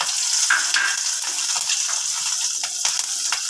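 Dried and green chilies frying in hot oil in a pan, a loud close hiss and crackle that continues steadily throughout, with a few sharper spits and pops.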